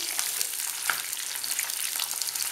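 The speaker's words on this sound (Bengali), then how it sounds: "পেঁয়াজটা একটু নরম করে নেব ভেজে। ক্যাপসিকামটা দিচ্ছি।" Onion and capsicum frying in oil in a pan, a steady crackling sizzle with occasional stirring scrapes and small pops, close and fairly loud with no talk.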